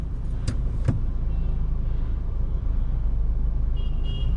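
A car creeps slowly forward while being positioned at a turn, its engine a steady low rumble close by, with a couple of short clicks early on and no talking.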